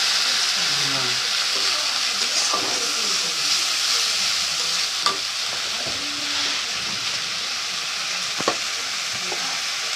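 Egg curry made with seventeen eggs and turmeric, frying and stirred in a pan, gives a steady, close hiss of sizzling with occasional soft scrapes and clinks throughout.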